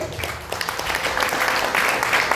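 Congregation applause in a church service, a brief dense burst of clapping that holds steady, with no speech over it.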